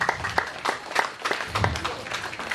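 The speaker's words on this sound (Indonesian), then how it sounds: "Boleh tepuk tangan buat Pondok Sapata." Applause from the audience at a Christmas celebration in Kendari honoring the Pondok Sapata family. Scattered, uneven clapping is heard at moderate volume, mixed with some voices.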